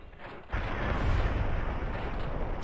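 Enemy gunfire in Fallout New Vegas erupts after a brief quiet moment, a sudden burst of dense, rumbling shots that continues steadily to the end.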